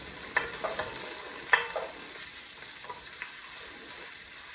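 Celery stirred into a chili pot of mirepoix over medium heat, giving a soft steady sizzle with a few sharp scraping clicks of the spoon, close and moderately quiet, no talking.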